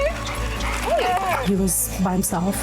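A dog found alone on a mountain gives a few short yips and whimpering barks under people's excited calling and talk, close by.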